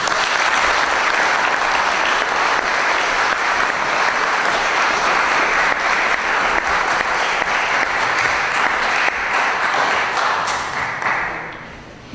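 Loud, sustained applause from a crowd at a mentee graduation ceremony, a dense wash of clapping that holds steady before tapering off at the end.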